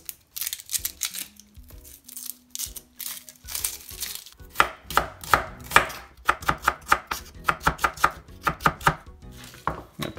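An onion being chopped with a knife for Japanese yakisoba: a run of crisp, close cuts, sparse at first and then settling into a quick, steady rhythm of sharp strikes, with no voices.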